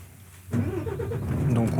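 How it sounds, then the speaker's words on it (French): An articulated flatbed truck's engine cranks and catches during a safety check, a short starter whir followed by a steady low idle rumble, fairly quiet and close. "Donc on va pouvoir effectuer la mise en marche moteur."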